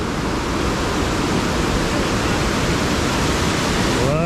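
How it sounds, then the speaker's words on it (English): Rushing water of a rainforest stream in Veracruz, Mexico, swollen after heavy rain, a steady dense roar filling the scene from start to finish, with a faint voice near the end. "We've had a lot of rain lately, so the water's flowing pretty good"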